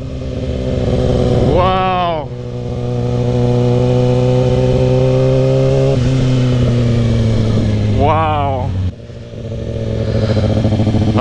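A 2011 Kawasaki ZX6R fitted with a Two Brothers M2 exhaust revs hard and loud up close, with two sharp throttle blips rising and falling over a steady idle roar, while a person exclaims in between.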